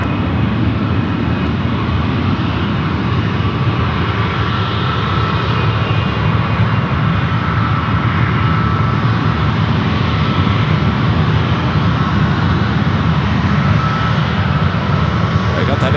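A Boeing 747-400 arriving from Frankfurt passes overhead at San Francisco airport, a steady, loud broadband jet engine roar sustained throughout with no letup, carrying across the full clip.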